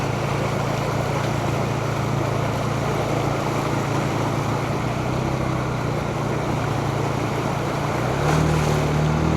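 Floodwater in a street in Guagua, heard during a ride through knee-deep water as a constant loud rushing wash with steady engine drone and wind, no talking.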